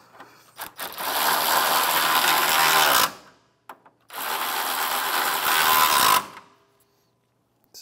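A ratchet spinning off two 10 mm bolts on top of the A/C condenser on a 2011–2016 Hyundai Elantra, two long buzzing runs of a few seconds each, close and loud, separated by a short pause.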